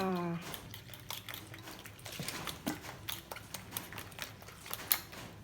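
Three eggs with cha-om (acacia leaves) are beaten in a bowl, giving a quick run of light tapping and clinking strokes, steady and close, with a voice speaking briefly at the start.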